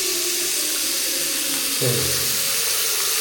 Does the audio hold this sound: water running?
yes